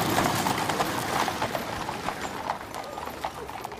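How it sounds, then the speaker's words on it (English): Horses' hooves clip-clop on the road in a funeral procession, many steady overlapping hoofbeats at a walking pace amid broad outdoor ambience, with no voices. "You then had the horses' hooves, and you could hear the wheels of the carriage."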